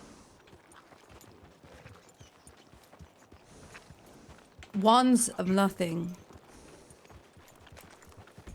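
Horse hooves clip-clop in a steady, soft patter that runs throughout at low volume, with a short burst of a voice speaking midway.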